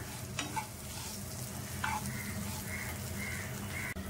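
Chillies and garlic fry in a pan with a soft, continuous sizzle and occasional stirring scrapes, faint and close, without talk.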